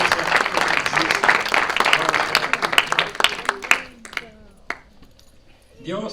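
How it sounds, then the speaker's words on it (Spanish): A worship congregation applauds Jesus with dense, steady clapping for about four seconds, then it thins into a few scattered claps before a voice begins. "Denle un aplauso a Jesús"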